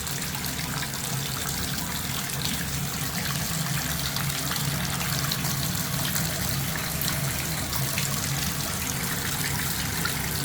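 Water from a Pfister shower runs hot with some cold mixed in, a steady, loud, continuous spray with no breaks or voices.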